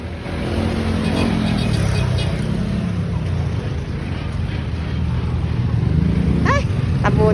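A motorized tricycle engine runs with a continuous rough drone in busy street traffic. It is loud and close, with slight revving and a brief squeak near the end.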